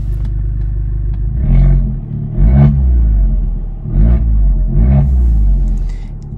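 An Abarth 695 Rivale in sport mode with its exhaust valves open revs several times from a deep idle rumble, each blip rising and falling in rhythm, loud and close.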